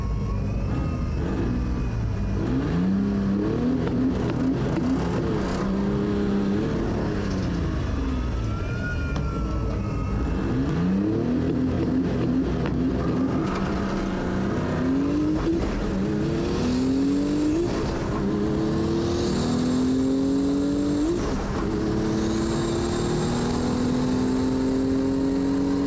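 A race car launches from the line-up at a motorsport event at Vesivehmaa, its engine loud and close, revving and climbing through repeated upshifts, with other engines droning in the background and no speech.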